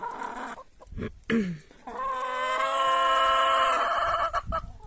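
Hens in a coop cluck and then give a long, drawn-out, song-like call, close and fairly loud, with short bursts of clucking before and after.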